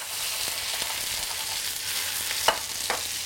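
Onions, garlic and chanterelle mushrooms fry in a hot pan with a steady, close sizzle and a few soft stirring knocks, with no voices.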